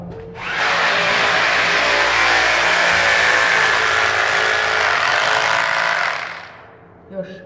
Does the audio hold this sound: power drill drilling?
yes